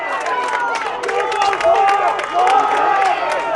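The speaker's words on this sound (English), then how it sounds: "Wandin crowd getting up and about" Wandin supporters cheering and calling out in the stands at a Narre Warren versus Wandin premier senior football match, a steady roar of crowd noise with rising swells beneath a commentator talking.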